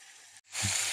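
Soft hissing sizzle of meat cooking in a pan, briefly cut off, then returning louder and steady for the rest of the moment.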